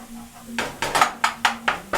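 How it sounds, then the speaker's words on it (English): A skillet of frying garlic is slid and shaken across a stovetop, several scraping clanks in a rough rhythm, close and fairly loud, with faint sizzling underneath. "So grab the skillet so that you move it around."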